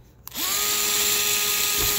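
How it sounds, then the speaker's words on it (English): After a brief click, a small gyroscopic hand drill spins up into a steady high whine while boring holes in a plastic starship model, sustained for under two seconds. "And again, using my little gyroscopic drill,"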